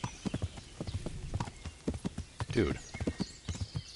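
Rhythmic hoofbeats of a galloping horse in the medieval game Kingdom Come: Deliverance, steady clip-clop close by with a brief whinny-like burst, while someone talks over it.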